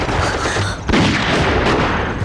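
A loud gunshot bursts out in a wartime drama set in a concession under siege, one sharp boom followed by a dense, noisy rumble and scattered cracks.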